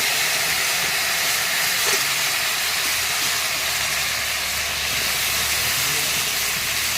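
Cauliflower hitting hot oil tempered with cumin seeds in a Bengali home kitchen, giving a loud, steady, dense hiss of sizzling that runs unbroken throughout without any talking.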